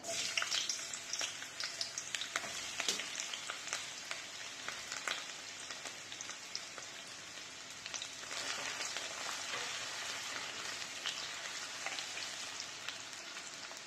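Sliced onion frying in hot mustard oil in a pan, a steady close crackling sizzle with frequent pops and the occasional scrape of stirring throughout.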